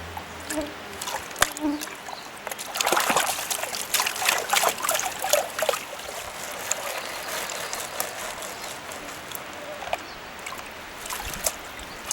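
Water trickles and splashes softly in bursts as it is poured out of a gold prospecting pan, close by, with light scraping and handling noises and a faint murmur in the background.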